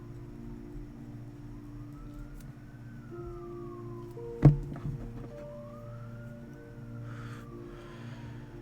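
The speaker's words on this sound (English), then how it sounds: "Sorry if you can hear the sirens again." Emergency vehicle sirens wail in rising and falling sweeps from outside, faint and distant beneath a steady low indoor hum, with a brief knock midway.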